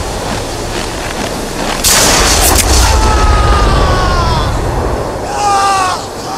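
A single sharp pistol shot cracks out, followed by a lingering rumble and faint whistling tones.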